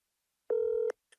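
A single electronic telephone keypad tone sounds as a number is dialed to start a phone call. The steady beep lasts under half a second, is followed by a faint click, and stands alone in silence.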